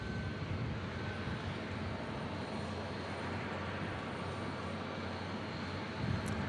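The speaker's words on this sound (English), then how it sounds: "Nice fall day as this 737-800 takes off." A Boeing 737-800 takes off from runway 18 at Omaha Eppley Field on a fall day, its engine roar a steady, fairly faint broadband rumble heard from a distance.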